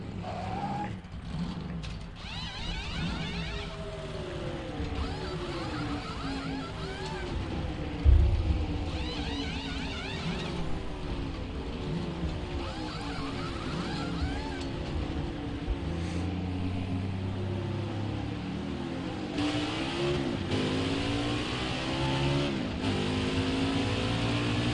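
A race car engine drones steadily through a pit stop in NASCAR Heat 5 at Homestead. Tool clatter and a brief thump mix into the sustained mechanical roar, and no one speaks.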